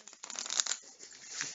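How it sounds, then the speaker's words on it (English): Board game cards being shuffled, a quiet, brief papery riffle of about a second and a half, close by and faint. "And now shuffle again"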